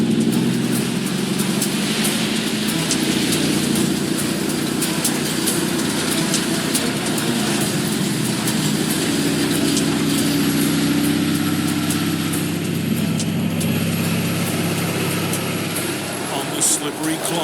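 Road train's heavy diesel engine rumbling steadily as the truck drives into deep flood water, a constant low drone with splashing hiss, people talking over it.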